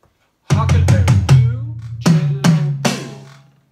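An acoustic drum kit plays a fill that runs from the floor tom around the toms to the snare: loud, close, resonant hits in a quick run, then three slower ringing strokes.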